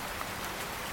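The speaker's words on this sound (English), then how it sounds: "I listen to the rain." Steady rain hisses and patters densely and evenly throughout a brief moment, with no voices.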